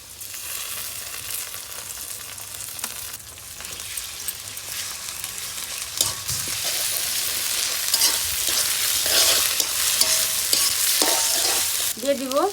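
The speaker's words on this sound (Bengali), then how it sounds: "আদা রসুন বাটা দিয়ে দিব।" Ginger-garlic paste fries in a hot pan for chicken kosha, a steady loud sizzle broken by repeated scraping stir strokes that grow busier toward the end, with no talking.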